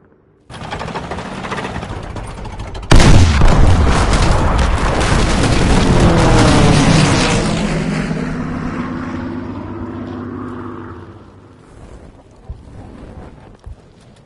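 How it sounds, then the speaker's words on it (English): Enemy aircraft bombing in the Call of Duty WWII video game: a sustained, loud roar of explosions and rumbling booms that swells after a few seconds, then fades away. "Now their aircraft will bomb our forces!"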